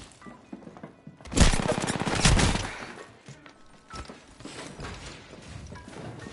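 Gunfire in the Apex Legends game, a dense, loud burst of rapid shots near the start, then scattered quieter shots and mechanical clatter.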